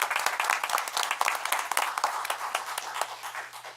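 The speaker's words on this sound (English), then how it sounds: "we will give you a round of applause" A small group claps steadily at a town board meeting, with the dense patter of hands close by and gradually thinning out near the end.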